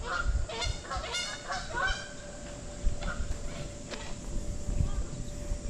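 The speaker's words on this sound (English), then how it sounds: "The geese are coming home again." Several geese honk in a burst of repeated calls early on, then a few scattered honks follow, fairly close over an outdoor yard with faint background rustling and no speech.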